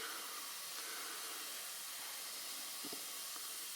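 Steam hisses steadily from a leak on a Jensen #5 model steam engine as it builds pressure, a constant broad hiss, close and continuous, with faint clicks beneath and no talking.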